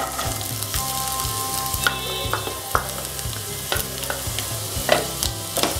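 Onion sautéing in hot oil for egg fried rice, a steady close sizzle broken by a regular scrape and clatter of a spoon stirring through the pan, with no voices.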